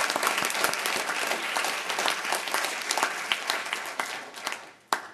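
A round of applause at a Santa Clarita city council special meeting honors the nurses and volunteers in the front row, with many hands clapping in a broad, sustained wash that thins out toward the end.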